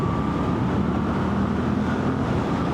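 A Moto Guzzi V7 Special MK IV motorcycle engine runs in third gear while rolling down a hill, giving a steady, continuous close drone mixed with wind rush, with no talking.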